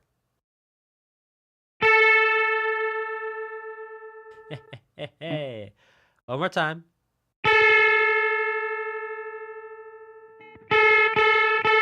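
Two nearly identical pure A tones, 440 Hz and about 443 Hz, sound together, their combined pitch wavering in a slow pulsing beat; a voice speaks briefly between the sustained tones.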